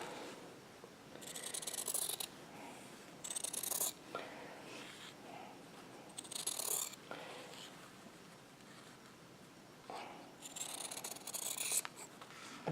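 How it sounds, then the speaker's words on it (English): Scissors cut apart stitched quilt fabric units in several short bursts of crisp snipping and rasping, close and fairly quiet, with pauses between the cuts and no talking. "once I have them all stitched, I'm going to go ahead and cut them apart"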